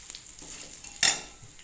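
A spatula stirs whole cumin and whole garam masala tempering in hot oil, with a soft steady sizzle and a sharper scrape-and-hiss burst about two-thirds through, for a Bengali curd potato dish.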